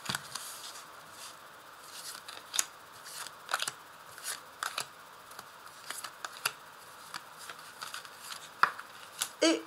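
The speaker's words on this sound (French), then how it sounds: "Alors je vais placer les cartes." Cards are laid out one at a time on a table in quiet, close, scattered soft taps and slaps, with a faint hiss behind them and no talk.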